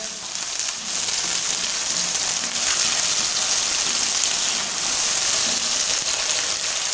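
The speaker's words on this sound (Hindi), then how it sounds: "1 से 2 मिनट फ्राई कर लेंगे।" Chicken jalfrezi fries in a pan with a loud, dense, continuous sizzle, close and steady without a break for several seconds.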